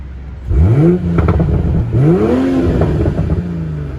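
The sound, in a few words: car exhaust revving in sport mode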